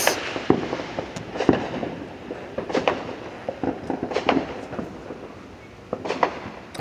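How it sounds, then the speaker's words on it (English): Fireworks go off outdoors in a series of irregular pops and booms, some sharp and close and others more distant, over a low background rumble. "I'm outside and we are looking at the fireworks"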